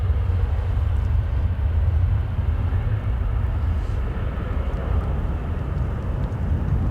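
An airliner departing Dublin Airport on a wet, gusty day, heard as a loud, steady broadband jet roar and rumble that holds for several seconds without voices.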